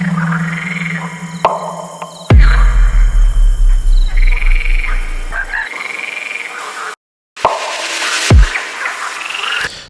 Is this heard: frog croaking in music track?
yes